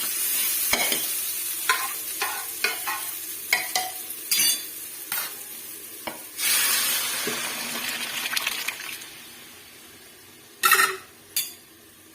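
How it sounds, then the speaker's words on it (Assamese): Dry lentils pour and scatter into a hot pan of frying spices, with stirring scrapes and sizzling bursts and a few sharp clinks of utensil against metal. "মছলাটো ভাজি হৈ গ'ল, এতিয়া দালিখিনি ঢালি দিম।"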